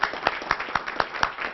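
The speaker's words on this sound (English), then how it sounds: "let's give him a round of applause and thank him for what he has done" An audience applauds David Timmons in a rhythmic, regular clapping pattern, a few close, distinct claps per second over a brief stretch, heard alone without talk.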